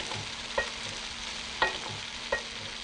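Prawns, noodles, leeks and bean sprouts stir-fried in a hot pan, with a steady close sizzle and three sharp scraping clatters of the utensil against the pan spaced about a second apart.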